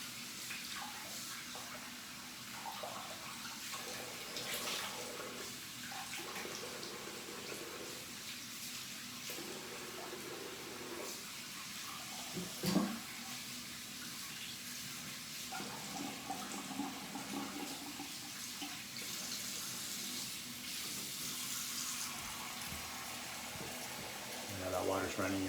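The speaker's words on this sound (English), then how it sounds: "Water's running, you probably hear it." Tap water runs steadily into a bathroom sink during pre-shave prep, a faint continuous splashing hiss lasting throughout, with someone talking over it.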